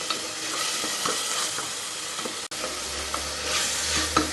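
Ginger, garlic and shallot paste sizzles steadily in a hot pan for chicken kulambu, with a spoon stirring and scraping at intervals, close and continuous.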